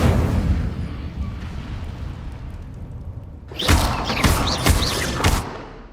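An Incendio fire spell cast in Hogwarts Legacy flares up as a sudden bright, crackling burst of flame partway through, after a stretch of low rumbling booms, and then sputters on in flickering bursts.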